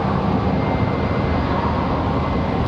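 A UPS Boeing 767 at Charlotte Douglas airport gives off a steady, loud broadband jet engine roar with no breaks, heard from close by and with no voices over it.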